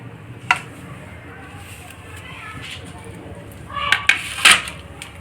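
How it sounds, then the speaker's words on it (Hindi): A knife slices a potato into thin chips, with a sharp cut early on and a cluster of crisp clicks and knocks toward the end, close by, while a voice talks over much of it. "मैंने ये एक आलू का काट के दिखाया है"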